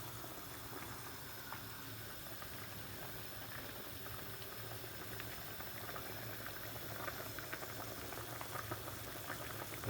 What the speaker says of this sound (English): Let it cool down because it's boiling.